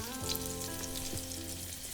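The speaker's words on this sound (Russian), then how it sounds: "пока она у нас будет жариться" Calf liver frying in oil in a pan, a soft steady sizzle with faint crackles and pops, heard alone and fairly quiet, with a low tonal hum running underneath.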